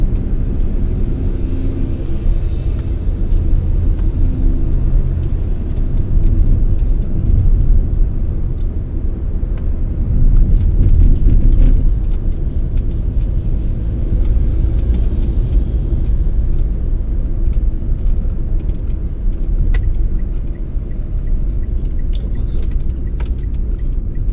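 A car in fourth gear driving along a road from Kenjeran toward Bangkalan, Madura, heard from inside as a steady loud low engine and road rumble with faint ticks and clicks, continuous throughout.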